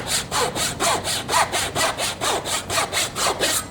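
A Zona 24 TPI Japanese pull saw, a fine razor back saw, rasps through a thick piece of wood in steady, even strokes, about four per second, loud and close with no talking.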